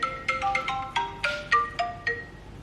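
A phone ringtone for an incoming call, a bright electronic melody of about eight quick tonal notes repeating in a lively pattern, close and clear without talk.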